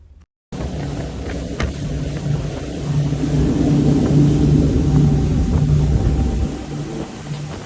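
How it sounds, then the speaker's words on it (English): A center console motorboat engine roars steadily at full speed on open water, a loud continuous low rumble with wind buffeting the microphone. "we're going to run the boat full speed"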